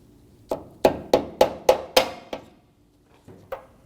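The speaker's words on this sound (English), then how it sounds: "I'm going to use a soft face hammer for a little persuasion." A run of seven quick, firm soft-face hammer taps seating a tailgate damper insert on a 2019-2025 Ram 2500, close and evenly spaced, then a pause and a couple of softer knocks.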